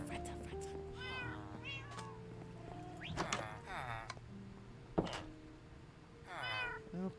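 Cats meowing in a Minecraft game session, several short pitched meows scattered over ongoing game sounds, with a player talking throughout.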